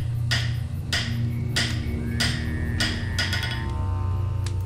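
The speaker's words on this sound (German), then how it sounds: "wir können jetzt dann mit dem Hammer ordentlich draufkloppen" Repeated metallic hammer strikes on a cog being forged in the game Tesla Effect: A Tex Murphy Adventure, about six evenly spaced clanging blows with ringing tones over a steady low hum, no talk.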